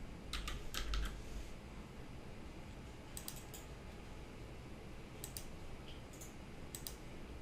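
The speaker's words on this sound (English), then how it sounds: "In the filter box, type in the name or the ID." Typing on a computer keyboard while searching panels in SketchUp, heard as faint scattered clusters of key clicks in short bursts over steady background hiss, with no talking.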